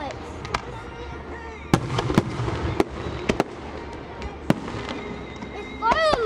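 Fireworks display at Grand Casino Hinckley: a series of sharp booming bursts spaced irregularly over a steady outdoor rumble, ending with whistling, crackling shells, while people talk nearby.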